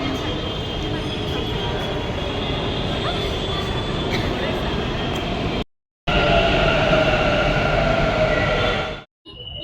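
Metro train pulling into a station, a loud continuous rumble and hum with wheel whine throughout, briefly cutting out twice, while people talk nearby.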